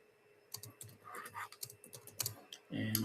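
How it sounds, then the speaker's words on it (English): Computer keyboard typing during a live-streamed Q&A, a quiet series of close, irregular key clicks ending with a brief louder burst of voice. "Maybe I should probably type this."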